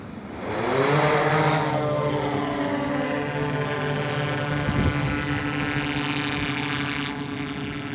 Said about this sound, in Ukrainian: пілот має підійти, натиснути кнопку безпеки і тільки після цього дрон вже може починати політ